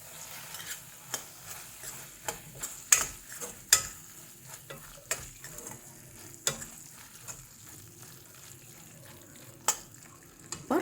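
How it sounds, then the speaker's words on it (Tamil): Ghee sizzles in a pan as tomato rice masala is stirred, a soft continuous fry hiss broken by sharp clinks and scrapes of the spoon against the pan at uneven intervals. "1 ஸ்பூன் போல் கீ விடலாம்."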